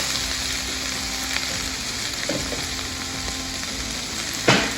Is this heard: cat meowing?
no